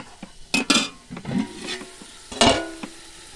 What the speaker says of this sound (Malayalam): നമ്മുടെ ഉള്ളി വഴന്ന് വന്നിട്ടുണ്ട്.